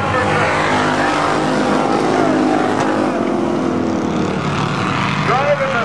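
A Thunder Car stock car engine roars on a short oval track during a Canada Day feature race, a loud, sustained growl with other cars blending in, under an announcer's commentary.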